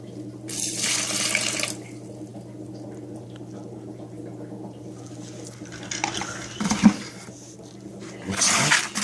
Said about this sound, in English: Let's put 2 cups of water.